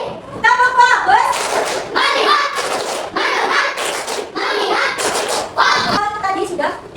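Schoolchildren in a classroom doing rhythmic group clapping in short bursts between loud young voices shouting along, fairly close and lively.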